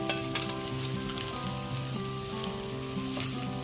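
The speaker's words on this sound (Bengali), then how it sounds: "এবার ওপর থেকে নিচে খুব ভালো মতো একবার নেড়ে নেব" Muri ghonto, a rice dish, being stirred in a pan, with a steady loud sizzle and frying crackle throughout and faint scraping of the stirring utensil, with no voices.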